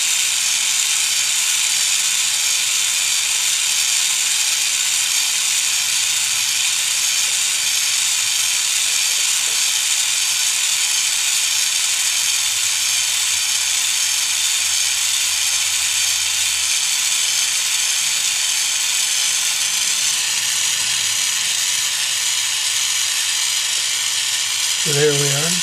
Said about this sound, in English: fairly big flame, about 75 mil away. And we're just going to do the same thing, heat it up until the enamel goes nice and smooth